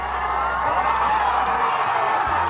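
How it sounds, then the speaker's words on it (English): A large crowd gathered outside a courthouse roars into a loud, sustained cheer, a dense wash of voices with a faint steady hum underneath. "A huge cheer, then singing as the decision reaches the crowd out front."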